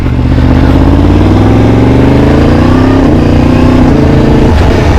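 A loud 1000cc motorcycle engine revs up close, its pitch climbing steadily, then dipping and rising again in a throaty, continuous roar.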